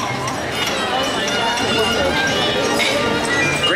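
Hooves of a Clydesdale draft filly in a harness clop steadily as she pulls a purple show cart at a horse fair breed show, set amid a loud, busy crowd with constant chatter.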